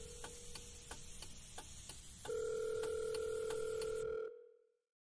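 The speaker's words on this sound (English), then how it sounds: "the phone could be heard ringing throughout the van" A telephone inside a van tone sounds quietly amid soft ticking clicks, then a louder steady electronic ring holds for about two seconds before fading out.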